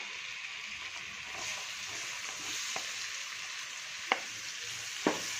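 Finely chopped onion with ginger-garlic paste sautéing in butter in a pan for masala pav, a soft continuous sizzle with a few sharp clicks of a spoon being stirred against the pan.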